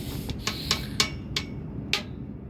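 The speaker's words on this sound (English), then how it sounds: "I don't know why we're making racket except for the pulleys are junk." Rusted pulleys in a Cambridge direct-fired makeup air unit give sharp metallic ticks and knocks. About seven of them come at irregular intervals over a steady low mechanical hum.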